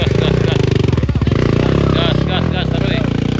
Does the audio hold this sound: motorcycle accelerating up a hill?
yes